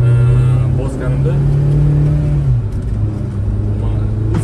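A 2021 UAZ Patriot 4x4 with automatic transmission revs loudly up close, its engine note rising and holding before dropping back, with a voice talking over it.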